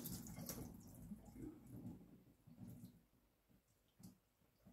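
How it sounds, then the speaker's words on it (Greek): Water runs steadily from a kitchen tap over lamb intestines being washed for kokoretsi, a continuous rushing splash that shifts as the casing is moved under the stream. "το βάζουμε κάτω από τη βρύση"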